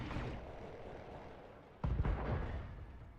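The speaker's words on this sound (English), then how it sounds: "Ammo explosion. Scored a critical hit." An ammunition explosion in the BattleTech video game: a sudden muffled boom with a rumbling burst cutting in midway over a steady low roar of game noise, with no talk.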